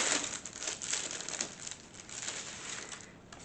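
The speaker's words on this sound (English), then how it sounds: "So what I'm grabbing right now are stickers." Sheets of stickers are picked up and handled up close, producing a steady, soft crinkling rustle of thin paper and plastic that runs without pause at a low level.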